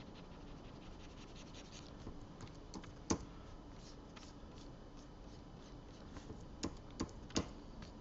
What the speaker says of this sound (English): I'm just hitting my arrow keys back and forth